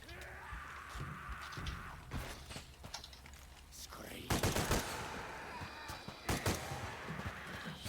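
Gunshots in the action game Shadow of the Tomb Raider, with several sharp bursts in quick succession and a heavier cluster midway, set against game ambience and hum.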